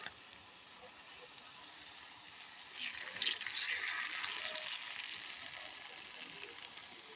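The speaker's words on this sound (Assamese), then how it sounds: "এইবাৰ মই পকৰি ভাজিম" Steady oil sizzle of pakoras frying runs throughout, growing a bit louder and busier partway through, with faint clatters and no talking.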